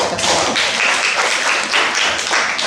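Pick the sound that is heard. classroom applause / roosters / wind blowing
classroom applause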